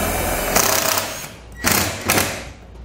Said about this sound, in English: We're going to have to use self-tappers because we're screwing it into a metal frame.